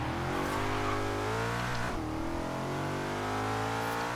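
Porsche engine revving hard and climbing through gears in the racing game Forza Horizon 3, loud and continuous with rising and falling pitch and a brief dip mid-way, no voice over it.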